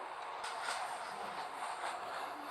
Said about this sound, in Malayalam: നമ്മൾ റെയിൽവേ സ്റ്റേഷനിൽ നിന്ന് വണ്ടി എടുത്തിട്ടുണ്ട്.